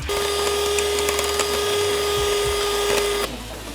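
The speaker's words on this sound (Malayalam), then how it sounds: "ഇനി നമുക്കിത് നന്നായി ബീറ്റ് ചെയ്ത് കൊടുക്കാം." An electric mixer beats whipping cream for a custard fruit cake, a steady high motor whine with rattling scrapes that runs for about three seconds, then cuts off.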